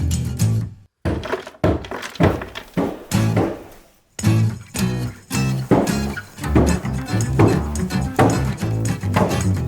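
Repeated heavy thuds and knocks on a fireplace chimney from downstairs, loud and close, coming in irregular bursts with brief pauses, like banging on a wooden structure.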